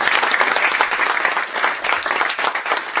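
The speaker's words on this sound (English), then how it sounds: "give our authors a round of applause" A crowd applauds warmly, with many hands clapping in a loud, steady wash that carries on without a break.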